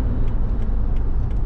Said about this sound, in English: I'm gonna get on the brakes for the corner.